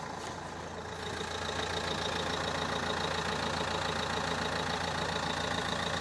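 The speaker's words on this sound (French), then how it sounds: "Ma voiture vient de se mettre en route toute seule." A car engine turns over and settles into a steady, loud idle, a continuous mechanical hum with no voices.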